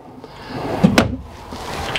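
A close, quick wooden clunk and slide of a wardrobe drawer in a travel trailer, with a sharp knock in the middle and soft rustling before and after.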